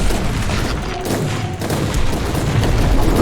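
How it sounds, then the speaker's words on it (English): Dense, loud game gunfire in Warhammer 40,000: Inquisitor, a continuous barrage of shots and booms filling the clip with no pauses. "let's give the commander again a nice little welcome headshot"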